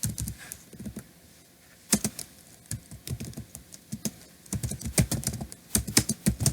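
PHP code typed on a computer keyboard: close, irregular bursts of crisp key clicks with brief pauses, growing faster and denser toward the end.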